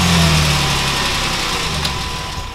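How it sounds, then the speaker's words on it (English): A parked car's engine idles steadily, a continuous low hum with a faint rattle, close and fairly loud throughout. "but only when the car is running."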